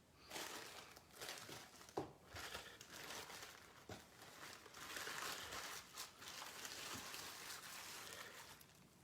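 Paper being folded up one-handed, a steady run of close crinkling and crumpling with a few sharper crunches, continuous and fairly loud throughout.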